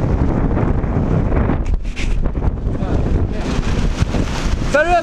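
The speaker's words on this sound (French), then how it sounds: "Regardez le vent." Gusty wind blows on a beach just after rain, roaring into the microphone with a brief lull in the middle before picking up again.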